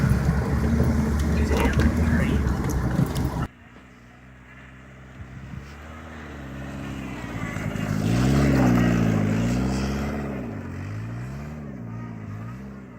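A Ford Contour beater with a custom exhaust revs hard while pushing through deep snow, engine droning and rising in wavering surges toward a loud peak, with some wind rumble at the start.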